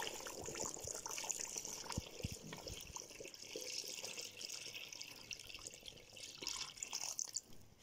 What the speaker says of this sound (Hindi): अब इसमें हम ऐड करेंगे 4 to 5 ग्लास ऑफ वाटर